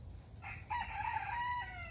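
A chicken named Wednesday gives a single short crow, close by, lasting about a second over a low background hum.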